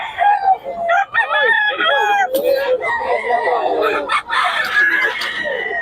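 A rooster crows again and again, loud and close, over a lively crowd of people talking nearby at a rooster market in the Philippines.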